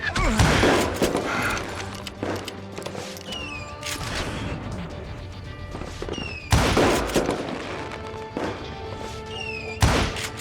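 Repeated gunfire in Call of Juarez Gunslinger, a Western shooter: sharp shots and volleys ring out at irregular intervals throughout, loud and near, with other battle thumps mixed in.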